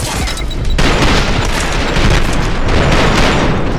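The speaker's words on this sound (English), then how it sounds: "The assault rifle is the VHS, and this does about what you would expect" Sustained automatic fire from the VHS assault rifle in the video game Trepang2, a loud continuous barrage of rapid shots that thickens after a brief quieter opening and keeps rattling without pause.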